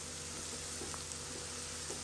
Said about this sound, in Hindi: ऑयल डाला है, और हम इसे इसमें ब्राउन होने तक फ्राई करेंगे।